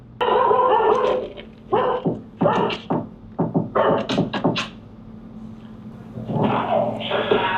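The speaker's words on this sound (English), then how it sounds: "Is that the guard dog?" A guard dog barks in a rapid, loud volley of several sharp woofs close by, with short gaps between bursts, then a voice speaks at the end.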